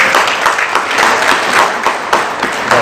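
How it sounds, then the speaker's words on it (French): A festival audience applauds for artist Mami Ndaye at the 10th-anniversary celebration of the FIGAS international festival. The clapping is dense, steady and fairly loud, with sharper bursts standing out, and no voices can be heard over it. "je voudrais vous demander d'applaudir très fort Mami Ndaye."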